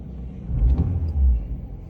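A 2012 Fiat 500 with a 1242cc petrol engine idling nearby, a low, steady rumble with slight swells in loudness and no speech.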